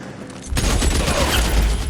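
Gunfire in the crime video game L.A. Noire, a sudden loud blast followed by a sustained burst of shots that fills the rest of the moment, with no talking over it.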